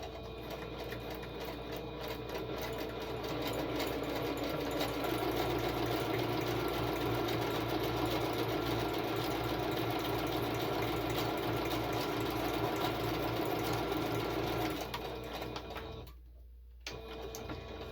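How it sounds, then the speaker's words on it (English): A domestic sewing machine runs steadily, stitching and backstitching card material for a mixed-media journal card, a close, continuous whirring motor hum that stops briefly near the end and then restarts. "So I'm just going to back stitch just to secure it."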